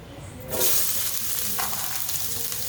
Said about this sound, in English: So my little saute pan's already hot. I'm gonna add a little bit of oil with my giant jug of oil